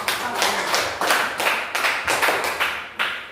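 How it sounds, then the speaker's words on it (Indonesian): A classroom of students applauds a student group with about a dozen quick, close rhythmic claps in steady unison that fade out after a few seconds. "Tepuk tangan dulu buat kelompok."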